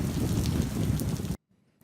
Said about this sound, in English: The heavy winds and rain battered the city, bringing it to a standstill